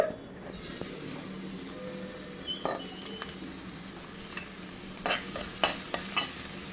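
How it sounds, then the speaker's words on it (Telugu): Garlic frying in two tablespoons of hot oil in a pan, a steady soft sizzle with scattered clinks and scrapes of a spoon stirring against the pan, close and moderately quiet. "2 టేబుల్ స్పూన్ ఆయిల్ తీసుకున్నా. వెల్లుల్లి వేసుకుందాం ఫస్ట్."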